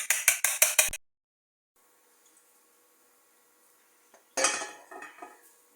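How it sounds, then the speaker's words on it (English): An egg whisked in a bowl: a quick burst of rapid metallic clinks, then near silence, then another scraping, clattering run of utensil against the dish, close and bright. "We're whisking the egg."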